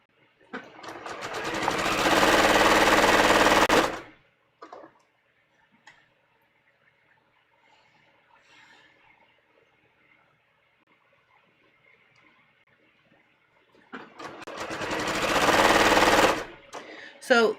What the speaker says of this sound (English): So again, I'm going to sew this at 1/2 inch. I'm just going to sew this straight in.